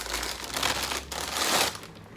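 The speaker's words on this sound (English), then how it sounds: "The first is your classic plastic bag." A classic plastic bag crinkles and rustles as it is handled, a steady close crackling texture with two fuller bursts of crumpling over about two seconds.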